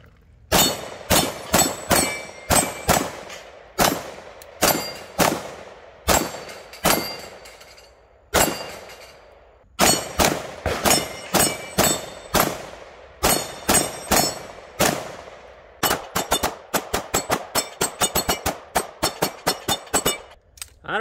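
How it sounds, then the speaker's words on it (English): Sig MPX pistol-caliber carbine fired at a range: sharp, loud single shots with echoing tails, spaced irregularly at first, then a fast string of rapid shots near the end. "it's first time shooting a Sig Mpx"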